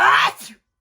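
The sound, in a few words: sneeze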